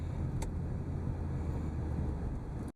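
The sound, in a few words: 1992 Cadillac Seville STS engine while driving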